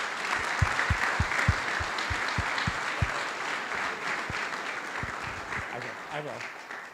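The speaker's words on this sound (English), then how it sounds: "Let's give them a big round of applause." Honorees at a community service district heroes luncheon receive a big round of applause from the audience, steady clapping from the seated crowd while a few low thumps sound near the microphone.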